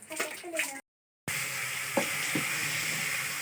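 Steady hiss of a fish head frying in hot oil, close by, with a few soft clinks and a short dropout partway through.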